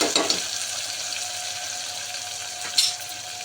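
Mint leaves and spices frying in a pan, a soft steady sizzle with a couple of brief stirring scrapes near the start and end, no voices.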